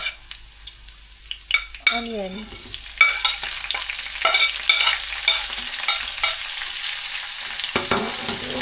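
Onions going into a hot pan with garlic for Singapore-style noodles, a loud sizzle rising and staying steady while a utensil scrapes and stirs, with occasional clinks of metal on the pan.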